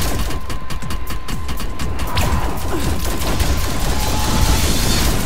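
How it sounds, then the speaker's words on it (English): Rapid gunfire in a video game, a dense stream of sharp shots at close range with mechanical clatter, continuous throughout and growing slightly louder toward the end, with no talking. "Who's she shooting at?"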